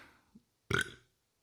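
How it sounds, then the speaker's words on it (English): A single loud burp after drinking Lech beer, rising suddenly after a faint breathy moment and lasting about a third of a second, close and clear. "If I burp, it's a sign of a good beer."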